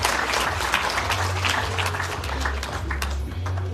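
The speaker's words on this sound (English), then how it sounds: "Give her another round of applause" An audience at an evening Ramayan program in a New York park applauds, dense sustained clapping from a crowd lasting the full few seconds at an even, fairly loud level.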